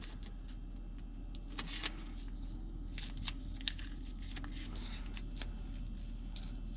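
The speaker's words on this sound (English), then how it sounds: "So now we take this off of here. Because you don't really want to leave blue tape on it" Blue masking tape is peeled off a Jaguar MKII panel in short, quiet tearing and crackling strips over a low steady background hum.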